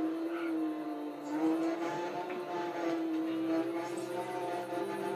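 An off-road vehicle in Just Cause 3 drives through mud, dirt and gravel with a steady humming engine tone that shifts pitch slightly as it skids and moves.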